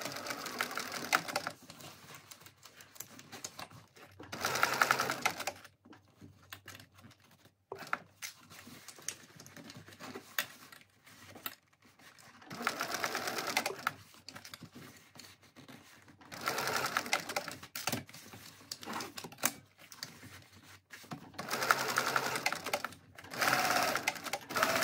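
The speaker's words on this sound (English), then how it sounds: "we're going to baste this together with an eighth of an inch seam allowance" A sewing machine bastes a zip panel on a Lomexa handbag at an eighth-inch seam allowance, sounding in several short, close stitching bursts separated by quieter pauses.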